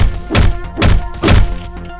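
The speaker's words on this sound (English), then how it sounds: "So I can just throw the weapon at him." Three heavy thunks land about half a second apart as a thrown weapon strikes enemies in the video game Hotline Miami, each impact punchy and close over a faint game backdrop.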